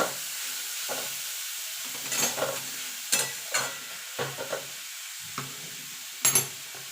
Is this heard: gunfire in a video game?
no